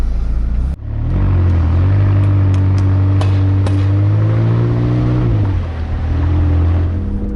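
A McLaren 570GT sports car engine idles with a deep, steady rumble close by, swelling briefly into a rev and then settling back, with no talk over it.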